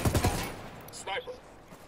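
Gunfire in Ghost Recon Wildlands, a quick burst of three or four sharp shots at the start, then fading noise with a voice speaking briefly over it.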